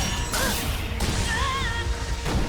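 Two sharp metallic sword strikes ring out in quick succession, each clash followed by a bright, wavering metallic ring.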